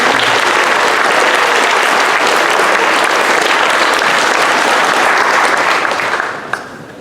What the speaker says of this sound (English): let's give one more round of applause for all our awards recipients